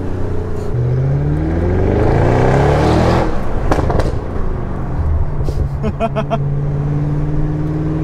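An Audi RS6 estate with a Milltek exhaust accelerates out of a bend, engine tone rising steadily before popping and crackling on the shift, heard loudly from inside the cabin with a voice talking over it.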